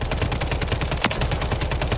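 Rapid submachine gun fire in Call of Duty Warzone 3, a dense continuous burst of loud, evenly spaced shots filling the whole stretch with no voices.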